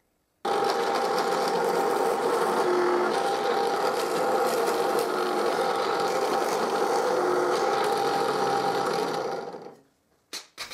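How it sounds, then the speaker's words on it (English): An electric drill bores dowel holes in wood for a display cabinet build, one long steady whine and grind that runs nonstop for about nine seconds at close range, then cuts off, followed by a couple of brief clunks. "I drill all the holes"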